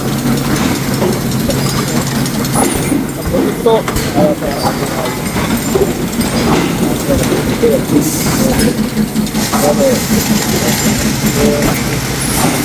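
Automatic bearing cage factory machine running with a continuous loud mechanical rumble and rhythmic clattering, while someone talks over it.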